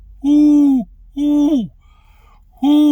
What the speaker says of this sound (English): play the owl